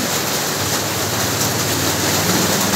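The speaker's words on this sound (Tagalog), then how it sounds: "naririnig nyo malakas yung tunog ng ating bubong dahil malakas yung ulan" Heavy rain drums steadily and loudly on a roof, a dense continuous hiss with no pauses.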